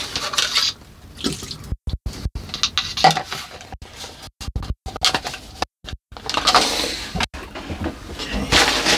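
Water poured into soil mix while planting a spruce on a rock, mixed with clattering, scraping and splashing in intermittent bursts close by.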